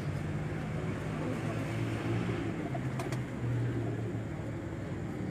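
A breeder pigeon in Mirpur, Azad Kashmir gives low, soft repeated coos under a continuous outdoor hum, with no voices.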